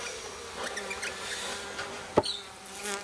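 Bees buzzing steadily close around a beehive, a dense continuous hum with one sharp knock partway through.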